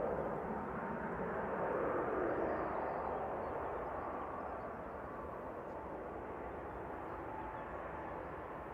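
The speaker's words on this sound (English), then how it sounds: "Titan Airways has just landed" A Titan Airways Airbus A321neo airliner, registration G-OATW, lands at Manchester Airport, operating for TUI. A steady, broad roar of jet engines holds throughout, strongest early on and easing slightly toward the end.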